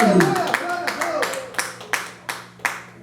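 Audience applauding in a church, a handful of slow, separate claps at a roughly even pace after a voice at the start, sparse and fairly close.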